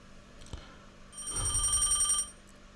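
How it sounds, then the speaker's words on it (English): A telephone bell rings in an empty, dark house in the game Dreambound, one clear burst of trilling rings rising after a soft knock, then fading to quiet. "A ringing sounded through the darkness, echoing through the soulless house."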